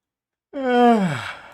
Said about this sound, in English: massive fucking yawn there